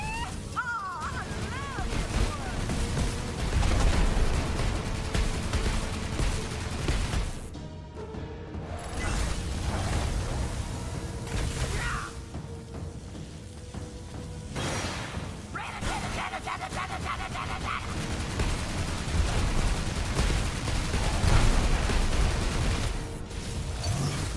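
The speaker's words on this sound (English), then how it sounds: "Seems they gave her a new green electro Gatling gun." Rapid electro Gatling gun fire in the vampire survival game V Rising, a dense, continuous loud barrage of crackling bursts with whooshes and crashing impacts across the stretch, broken by a brief lull, with game music and effects layered underneath.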